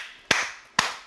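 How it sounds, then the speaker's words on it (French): Two sharp hand claps about half a second apart, close and crisp in a quiet room, each with a short ringing tail. "Tu m'applaudis déjà."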